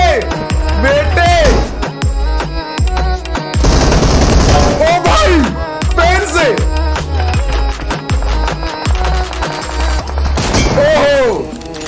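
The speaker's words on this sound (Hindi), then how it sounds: "अभी आपको नॉर्मल शॉट देखने को मिल रहे हैं" Video game gunfire rattles in rapid automatic bursts and single booming shots, loud and close, with whizzing sweeps between volleys and dense continuous combat throughout.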